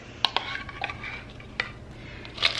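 A spoon clinks and scrapes against a dish as gravy, frozen vegetables and meat are mixed together for freezer meals, giving a few sharp metallic taps over a soft, quiet stirring.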